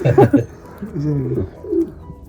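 Racing pigeons coo softly in a loft: low, rolling throaty calls close by, with a brief voice heard at the start.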